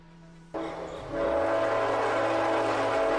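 A diesel horn on an AC44C6M locomotive in Trainz Railroad Simulator 2019 sounds loud and close, a sustained chord that starts abruptly and holds, deepening in pitch shortly after it begins.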